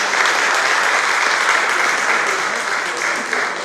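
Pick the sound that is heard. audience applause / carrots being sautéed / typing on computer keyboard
audience applause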